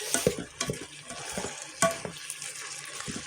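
Onions and ground beef frying in a pot for beef and vegetable soup, stirred with scraping, clattering strokes over a steady close sizzle, no talking.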